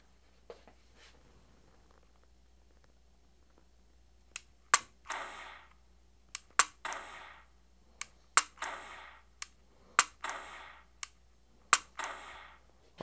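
A .45 caliber handgun fired at a target, about ten sharp shots in an irregular series of close, loud cracks, each followed by a brief decay, with silence between them.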